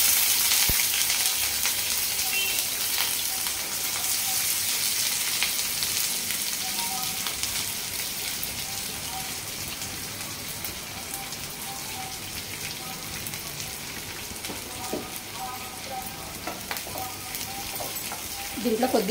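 Onions and green chilies frying in hot oil in a pot for an Andhra bottle gourd curry, a steady close sizzle crackling throughout with faint stirring.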